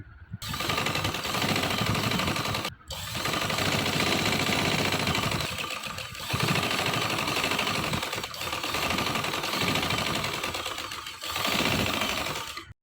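Sewing machine stitching cloth for a young girl's top, a close, loud, rapid mechanical whirring in several long continuous runs separated by short stops.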